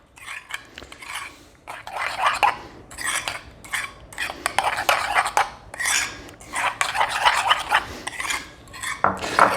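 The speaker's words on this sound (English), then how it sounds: "Mix these together real good." Spoon clatters and scrapes around a bowl in quick bursts while yellow prepared mustard is mixed into raw individual meatloaf mixture, close and fairly loud with no talk.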